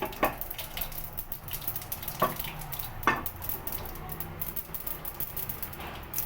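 Mustard seeds and cumin sizzle and pop in hot oil in a kadai while a Gujarati mango curry is being made. The steady frying hiss runs throughout, broken by a few sharp crackles and pops, close and moderately loud.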